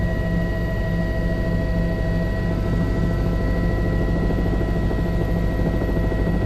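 News helicopter banking through turns over a high-rise fire, rotor and engine thrumming in a continuous loud drone with a steady whine, no voices.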